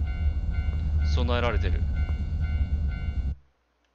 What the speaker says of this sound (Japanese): でも踏切の音